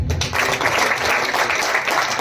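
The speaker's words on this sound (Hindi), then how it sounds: "तालियां बजा दीजिए।" Steady audience applause fills the space at a Hindi poetry gathering (kavi sammelan) in Beawar, a dense, even wash of many hands clapping throughout, loud and continuous with no pause.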